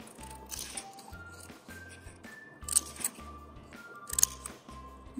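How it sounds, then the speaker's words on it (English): Scissors snip paper to cut crocodile teeth for a folded paper craft, a close run of quick, rhythmic cuts with soft crinkling and handling of the paper between them. "taking your scissors, we're going to create some teeth"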